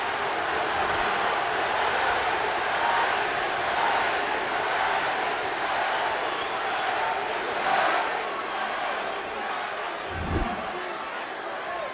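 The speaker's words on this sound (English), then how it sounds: "Well, it got the crowd off its seats." Boxing arena crowd during a championship bout, Manny Pacquiao against Shane Mosley in round 11, roaring and cheering steadily throughout, a dense wash of voices with a brief swell near the end.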